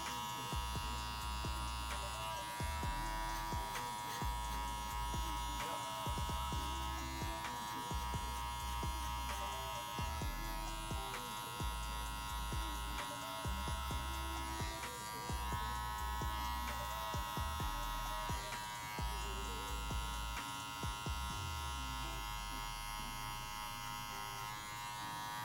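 Steady electric buzz of hair clippers fitted with a number 1 guard cutting hair during a crop top fade, close and continuous, with brief pulsing changes as the blade moves.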